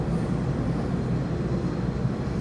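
A KiHa 47 diesel railcar rumbles along steadily on the Kotoku Line over Osaka Pass, a dense low roar of engine and rolling wheels filling the whole stretch without voices.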